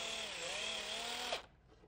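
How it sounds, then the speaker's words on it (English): A power drill pre-drilling pilot holes in wood for soft brass hinge screws on a Shaker wall clock, a close steady whir for over a second that stops abruptly. "The brass screws for these hinges are really nice, but they're soft, so I'm taking the precaution of pre-drilling the holes."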